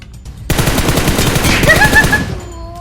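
Rapid automatic gunfire in the PUBG Mobile battle royale game, a loud sustained burst of closely spaced shots lasting about two seconds, then cutting off into quieter game tones.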